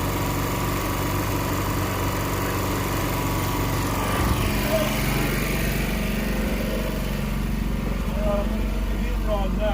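A Bearcat 3600 watt portable generator runs steadily and close by, a continuous buzzing engine drone that keeps an even level throughout and shifts slightly partway through. A faint voice can be heard under the engine noise.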